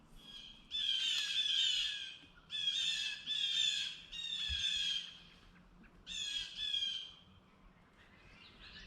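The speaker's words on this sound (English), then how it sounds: "there's all sorts of blue jays and crows hanging about, making lots of noise" Blue jays and crows squawk around a bird table in a garden, in several loud, harsh bursts of calls separated by short pauses, with faint outdoor background.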